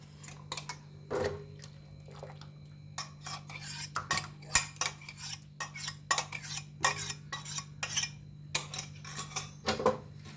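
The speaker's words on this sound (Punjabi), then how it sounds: "ਹੁਣ ਆਪਾਂ ਇਹਦੇ ਵਿੱਚ ਨਾ ਕਰਛੀ ਚਲਾਈ ਚੱਲਾਂਗੇ" A ladle scrapes and knocks against a metal pot of boiling rice kheer in irregular repeated strokes, close and fairly quiet, with a low steady hum underneath.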